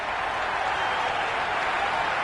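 Dense, steady roar of a cricket stadium crowd cheering in the Cricket 26 video game, loud and continuous like broad applause and noise filling the ground, with no distinct voices.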